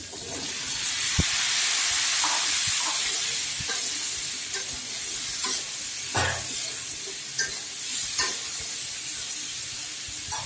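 Vegetables frying in hot oil for a Bengali catfish curry, a loud steaming hiss that gradually settles, with intermittent scraping and knocking of a spatula stirring in the pan.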